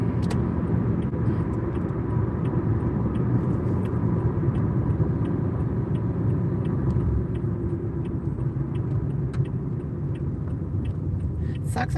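Steady low road rumble and engine drone inside a moving car, continuous and close throughout, with faint clicks and small bumps and no talk heard.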